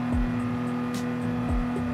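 Race car engine in Gran Turismo 7 at Daytona, a steady loud droning whine with a strong constant tone and brief low swoops as the car runs, no voices.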